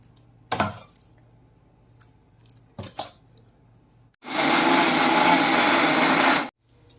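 A few clunks and knocks, then a mixer grinder whirs loudly for about two seconds in one steady burst before stopping, grinding sorrel leaves into a chutney paste.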